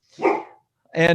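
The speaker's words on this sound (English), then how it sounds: "that's my dog saying hi" A large pet dog named Bob barks twice, a short rough woof followed after a pause by a fuller, louder bark, close to the microphone with a voice nearby.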